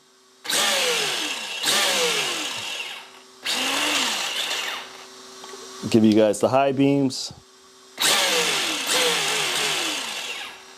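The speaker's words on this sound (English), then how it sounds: "You can hear that gyro working, the servo." The steering servo and gyro of a Rlaarlo XTS RC car whine in repeated loud electric bursts, rising and falling in pitch, with a short stuttering buzz in the middle. Someone speaks briefly over it.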